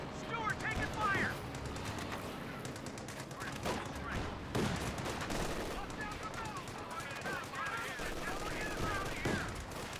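Gunfire in Company of Heroes 2, Grenadiers shooting at a rifle squad and a Stuart tank: dense, continuous bursts of rifle and machine-gun fire with shell impacts run the whole stretch under steady commentary.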